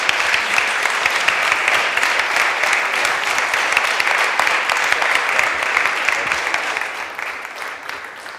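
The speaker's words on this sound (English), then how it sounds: "Ladies and gentlemen, an applause to Alar and Andres." A conference audience at a healthcare innovation event claps for two panel speakers, dense and even applause holding steady for several seconds before easing slightly toward the end.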